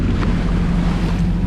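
A sailboat motor sailing through beam waves on a Kattegat crossing, with a steady low engine drone blended with wind buffeting and wash of water, continuous and fairly loud throughout.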